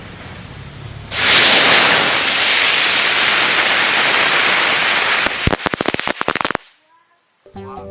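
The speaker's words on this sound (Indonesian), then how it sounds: "Ini dia teman-teman, mercon bunga teratai dan telur mentahnya." Lotus flower firecracker set off on a raw egg, a loud hissing spray of sparks for about four seconds, then a rapid burst of sharp crackling pops before it cuts to quiet with a few faint sounds.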